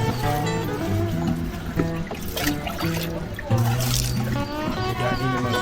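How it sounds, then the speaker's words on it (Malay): A child splashing and playing with water at an outdoor family day gathering, trickling and sloshing sounds mixed into busy background music and crowd chatter. "Budak ni memang suka main air ni."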